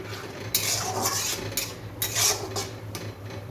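A lid is lifted off a pot of potatoes cooking for a shrimp and taro stolon dish, giving a series of close metallic clinks and scrapes over a soft, steady simmer.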